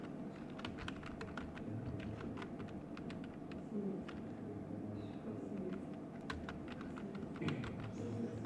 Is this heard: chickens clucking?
no